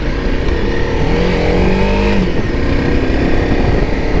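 Motorcycle pulling away after a ferry crossing, engine rising in pitch through a steady acceleration, loud and close over continuous wind and road noise, with no talking.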